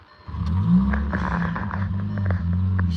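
A 1.8-litre car engine cranks and fires up, then settles into a steady, close, fairly loud idle hum with light mechanical clatter.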